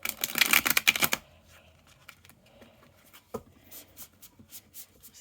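A tarot card deck is shuffled by hand, a dense papery riffle for about a second followed by quieter scattered card taps and slides, close and faint, with no talking.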